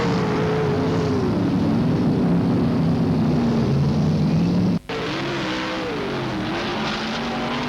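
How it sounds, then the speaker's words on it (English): Sprint car engines roar continuously at Parramatta City Raceway during a 1990 Gold Cup night, with loud, steady engine drone and shifting pitch, briefly cut by a sharp dropout before resuming. "Rod Bowen exits the event in the 76 car"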